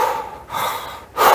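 A person demonstrates quick breathing with no pause between breaths, three rapid, close, breathy inhale-exhale cycles, the last one sharper and louder, with no words.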